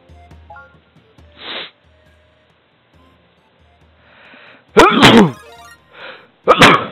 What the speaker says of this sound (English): Sorry, I suddenly sneezed and I clicked on it.